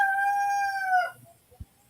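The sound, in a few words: rooster crowing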